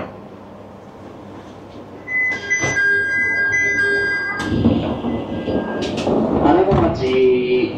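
A train at a Japanese station. A low rumble starts, then a loud roaring, rattling passage builds with squealing wheel or brake tones near the end. A sustained chime-like tone sits over the quieter opening.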